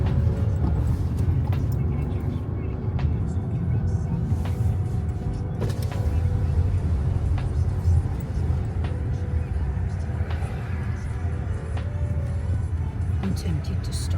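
Interior of a car on the move, a steady low rumble of engine and road noise filling the whole stretch, with occasional faint clicks and knocks inside the cabin and a voice speaking now and then.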